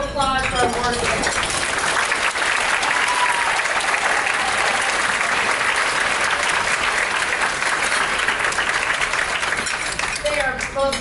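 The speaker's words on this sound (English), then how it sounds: "Let's have one more round of applause for our board members." Audience at a lecture event applauding board members, dense sustained clapping from a full room lasting about ten seconds, with a voice at the start and end.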